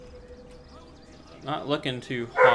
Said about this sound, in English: Do apologize about the barking.